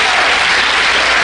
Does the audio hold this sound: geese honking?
no